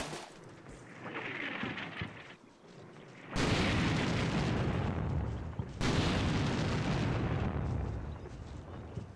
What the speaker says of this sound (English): PKM is still firing. People are returning fire on the PKM.